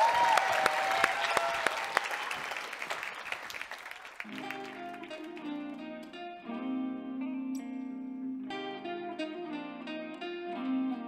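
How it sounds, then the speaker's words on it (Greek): Studio audience applause and cheering on a televised New Year dance show, dense clapping for about four seconds that fades as a band with sustained, effect-laden chords takes over and fills the rest. "Ένα χειροκρότημα, Ηλίας Πετρόπουλος, μπράβο"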